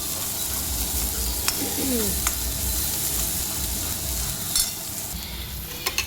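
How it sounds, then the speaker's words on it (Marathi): Ground masala paste for misal frying in hot oil, a loud continuous sizzle close by with occasional sharp clicks of a spoon against the pan. "आपला वाटलेला हा मसाला हा पण टाकून देतो मी. आणि मस्त असं छान मस्त असं भाजून घ्यायचं."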